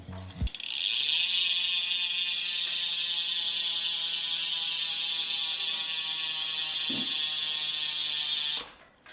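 Freehub ratchet of a Hunt wheel fitted to a BMC Teammachine R01 road bike, a fast, steady buzzing click as the wheel spins freely for about eight seconds, close and loud, then stopping abruptly.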